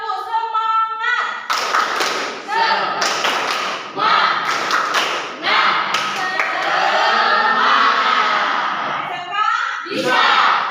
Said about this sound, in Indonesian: Ibu ingin kita lakukan dulu tepuk semangat ya